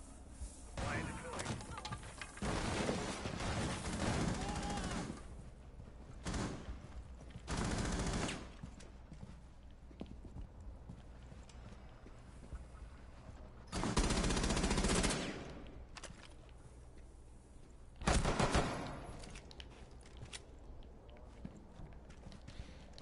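Gunfire in the Call of Duty Black Ops video game: repeated loud bursts of shots break out at intervals amid quieter game sounds, with several long sustained volleys.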